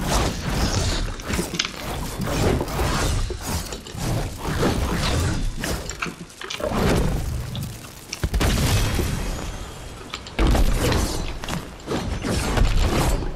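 An automatic turret fires on its own in a video game, a loud run of repeated booming, mechanical shots and clanks, briefly pausing midway before the firing resumes.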